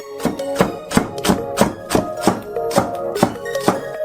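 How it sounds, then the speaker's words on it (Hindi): A knife chops green onion on a cutting board in a steady series of about ten crisp, evenly spaced strikes, close and clear with no talking. "हम एक छोटा हरा प्याज लेते हैं, इसे हल्का काट कर"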